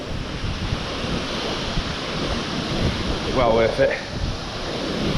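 Aber Falls in Snowdonia, swollen after heavy rain, gives a steady, dense roar of falling water that fills the whole clip, with a brief spoken voice over it near the end.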